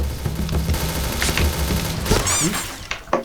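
Gunfire in the shooter Point Blank: a dense flurry of rapid shots and sharp cracks over game sounds, with a brief whistling tone near the end.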